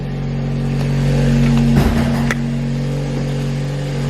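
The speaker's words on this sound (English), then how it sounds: "Here we go, cold start." Cold start of a 2-liter, 322-horsepower car: a steady idle hum, a short engine catch and rev near the midpoint, then the idle settles back, close and fairly loud.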